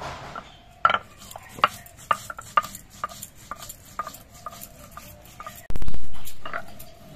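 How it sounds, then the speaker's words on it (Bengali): Ginger, green chillies and whole cumin are being ground into a paste, producing a series of sharp scraping knocks spaced irregularly, followed by a longer loud grinding burst near the end. "এবার একসঙ্গে এগুলো আমি বেটে নিচ্ছি।"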